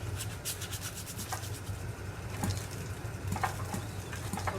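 Sandpaper scrubs by hand across the flywheel of an old small-engine generator, a soft, uneven rasping in short strokes with a few light knocks, fairly quiet and close.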